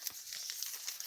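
A card-making kit package is opened by hand, with a short burst of close crinkling and rustling plastic wrap.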